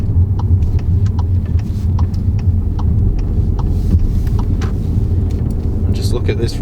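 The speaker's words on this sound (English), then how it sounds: "So you can just keep accelerating, and before you know it, you're over motorway speed." A Skoda Octavia iV plug-in hybrid accelerating toward motorway speed, heard from inside as a steady low drone of engine and road noise with faint clicks and rattles, under continuous talk.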